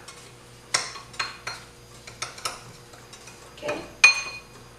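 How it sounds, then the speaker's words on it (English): Seasonings are stirred together in a bowl for homemade lentil soup, a spoon clinking and scraping in irregular taps and sharper knocks, close and fairly quiet, with a brief word spoken. "I'll go ahead and mix my seasonings up together"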